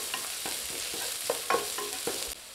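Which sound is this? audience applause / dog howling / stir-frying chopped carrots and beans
stir-frying chopped carrots and beans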